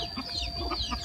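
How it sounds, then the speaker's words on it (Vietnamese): Chickens clucking close by in a garden while they wait for purple lychee fruit, with soft overlapping clucks in a steady murmur and a faint background hum. "Gà rất khoái vải, đang chờ đây."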